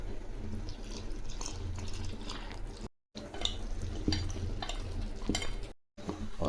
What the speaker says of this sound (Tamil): இப்போ இதை நம்ம தண்ணி ஊற்றி நல்லா கரைச்சி எடுத்துக்கலாம்